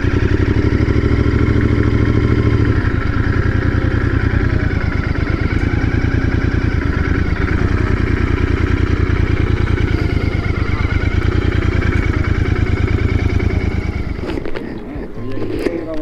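A Royal Enfield Continental GT 650 parallel-twin motorcycle engine idles and burbles steadily close by among other bikers, a continuous mid-pitched throb that fades near the end with a few knocks.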